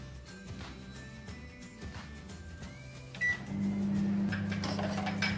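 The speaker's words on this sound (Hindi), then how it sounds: "अगेन मैं इनको 3 मिनट के लिए 720 वॉट पावर पर रख देती हूँ।" Microwave oven running at 720 watts while roasting sesame seeds, a quiet steady hum with faint clicks and beeps, then a louder, fuller drone after about three seconds as it continues alone without talk.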